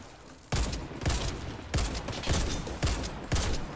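Gunfire in the shooter game Warface comes as a run of rapid, punchy shots in quick bursts, loud and close with a steady rhythm, no speech over it.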